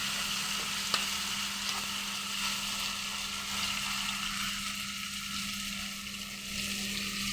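Coriander and curry leaves fry steadily in a hot pan, a continuous soft sizzle with a faint hum underneath and one brief click, no voices.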